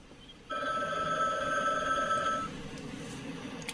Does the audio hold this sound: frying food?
no